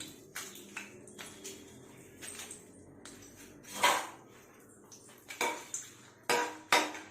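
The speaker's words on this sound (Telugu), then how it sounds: "ప్యాన్ పెట్టుకొని కొంచెం ఆయిల్ వేసుకొని వన్ మినిట్ హీట్ అయిన తర్వాత ఎండుమిర్చి వేసుకొని కొంచెం వన్ మినిట్ ఫ్రై చేద్దాం" Dried red chillies tossed in a little hot oil in a pan, heard as a run of sharp metallic clinks and scrapes of a utensil against the pan with quiet gaps between them and no voices.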